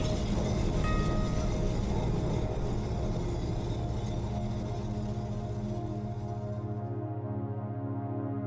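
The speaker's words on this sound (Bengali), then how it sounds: "তখন ট্রাম ঢুকতে শুরু করেছে রাস্তায়।" A tram rolling into a city street, a steady heavy rumble with rail hum that holds loud and continuous, then thins and fades toward the end; no voices.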